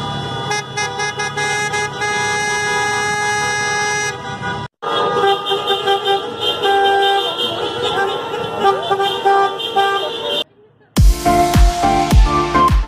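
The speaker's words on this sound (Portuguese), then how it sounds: "Os motoristas aplaudiram a recepção com um buzinaço." Drivers sound their car horns in greeting on arriving at a Christmas-decorated mountain resort, Campos do Jordão in Brazil, with repeated toots over steady road traffic and a louder, sharper burst of honking near the end.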